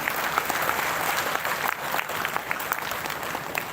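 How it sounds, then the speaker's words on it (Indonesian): Audience applause breaks out at a primary school graduation and Quran memorization ceremony, a dense steady patter of many hands clapping throughout, fairly close and loud with no voices over it. "Untuk itu tepuk tangan dulu."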